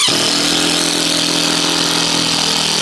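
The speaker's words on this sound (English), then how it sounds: "So let's go ahead and drive one of these into one of these holes. We'll start with the DEWALT." A DeWalt 18/20 V compact drill driver drives a screw into a hole, its motor starting abruptly and then whirring loud and steady at high speed close by, with no talk.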